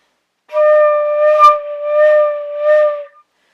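A flute sounding notes started with breath instead of the tongue, giving one loud continuous tone that swells and dips three or four times without crisp separations, played close and alone.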